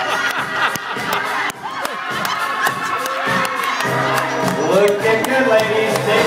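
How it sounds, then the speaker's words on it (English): A hypnotist show audience cheers wildly, a loud, continuous wash of shouting and whooping voices that persists throughout. "the crowd goes wild."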